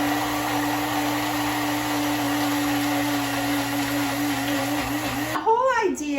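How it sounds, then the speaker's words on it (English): A blender whirs steadily as it purées sautéed onions and garlic with a little water, a loud, even motor drone that cuts off abruptly near the end, followed by a brief rattle. "you're going to want to give it a very good blend here"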